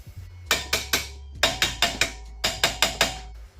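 A hammer strikes metal in three quick bursts of ringing blows, about a dozen hits total, sharp and close, with a low hum underneath, during a 2017 Ford Explorer wheel bearing replacement.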